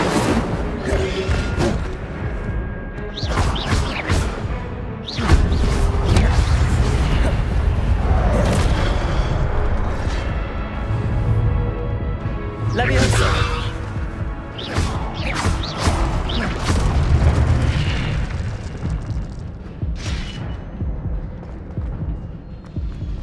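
Incendio fire spell blasts in the Hogwarts Legacy video game, a dense run of booming, crashing impacts and thuds layered over a rumbling game soundtrack, loud and continuous for over twenty seconds.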